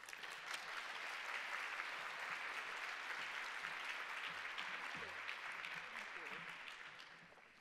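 An audience at a Columbia University women's conference applauds in a steady, dense wave to welcome Dean Bobby Berkowitz. It holds loud and continuous for several seconds, then tapers slightly at the end.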